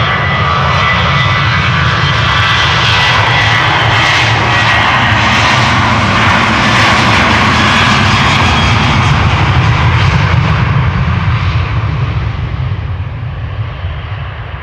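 A seven-year-old Norwegian jet airliner in plain red-nose livery spools up and takes off from the Polderbaan runway at Schiphol, a loud, sustained roar with rumbling low end that fades slightly toward the end.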